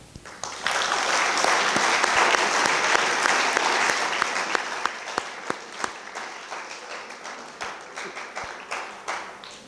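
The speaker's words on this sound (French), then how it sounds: "Oui, nous pouvons les applaudir" A French-speaking evening audience at an awards ceremony breaks into full applause that swells quickly, then thins into scattered individual claps as it fades.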